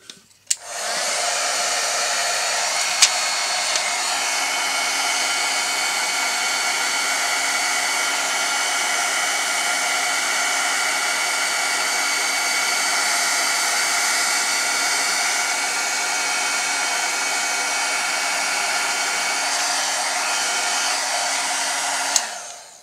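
A heat gun blows on embossing powder for Christmas journaling, a loud, steady, uninterrupted airy whir running for over twenty seconds after a click on, ending with a click off.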